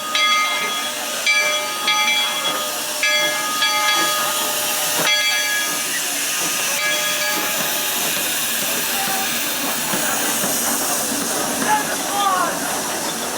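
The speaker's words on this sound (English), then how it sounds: "Oh my goodness, the train!" Steam train at Knott's Berry Farm letting off a continuous loud hiss of steam, with sharp whistle-like tones and metallic clanks mixed in, heard outdoors from nearby with a voice calling out over it.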